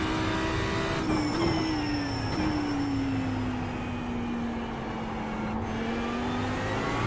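Audi R8 LMS EVO II GT3 race car braking into a corner at Spa-Francorchamps in the iRacing simulator; a loud, continuous engine tone drops in pitch as the car slows, with no talking.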